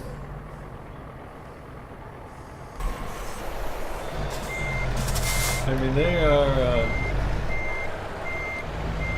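Truck reversing beeps in the American Truck Simulator game, a steady repeating electronic tone pulsing alongside engine rumble and passing rail and vehicle noise, with someone talking over it.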